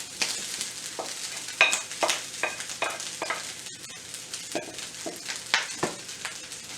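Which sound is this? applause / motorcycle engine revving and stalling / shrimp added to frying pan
shrimp added to frying pan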